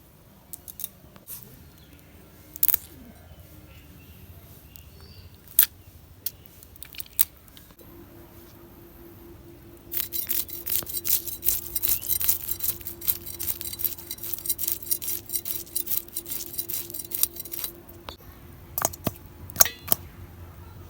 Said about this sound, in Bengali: বাটা মাছগুলো এখন আমি ভালো করে কুইড়ে নিই